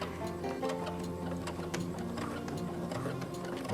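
Sewing machine stitching elastic back and forth while sewing a face mask, a close, steady rapid clatter of the needle mechanism running continuously without pause.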